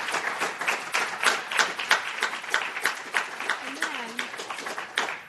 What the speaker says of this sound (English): So can you please give them a very warm round of applause and thanks.